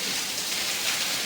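Heavy rain pours steadily in a Gujarat village, a dense continuous hiss of drops on surfaces, close and even throughout the short stretch.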